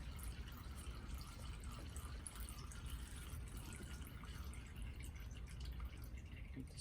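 Motorcycle engine oil draining from a 12 mm drain plug on a Honda CBR250R, a steady trickling, dripping flow heard alone and close, continuous throughout without talk.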